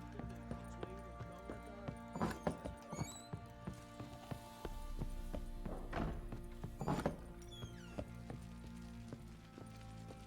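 Horses in The Witcher 3 video game clop their hooves in short bursts and give faint snorts or whinnies over a quiet, steady game ambience.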